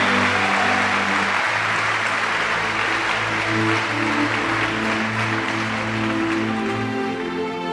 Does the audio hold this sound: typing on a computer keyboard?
no